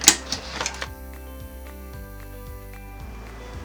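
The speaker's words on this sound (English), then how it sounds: "next we're going to run our tack down stitch" An embroidery machine sews a tack-down stitch on taped fabric for an Easter towel topper, a steady mechanical chatter with regular pulsing needle strokes and a hum, running alone without talk.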